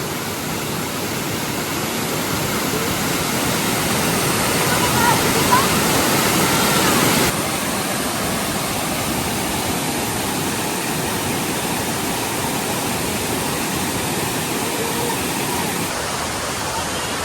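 A steady, loud roar of falling water from Silvermine Waterfalls in Mui Wo, Hong Kong, fills the air continuously, dense and unbroken, slightly quieter after the first few seconds.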